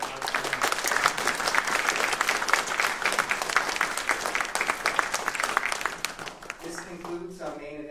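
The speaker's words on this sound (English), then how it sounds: "Can we have another round of applause for our panel?" Sustained audience applause for a panel at a university human trafficking symposium, dense clapping filling most of the clip before thinning out near the end, where a voice begins to speak.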